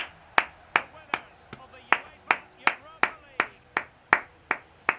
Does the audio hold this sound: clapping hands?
yes